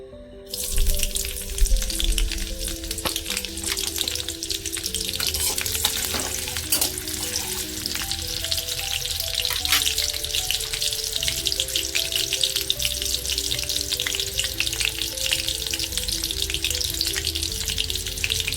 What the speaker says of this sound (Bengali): তেলটা কিন্তু গরম হয়ে গেছে। এবার এতে আমি কাঁচা লঙ্কাগুলো দিয়ে দেবো।